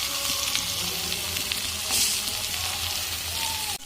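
Meat and offal frying together in a pan, salt going in, with a dense, steady, close sizzle and crackle running throughout, broken by a brief clatter near the end.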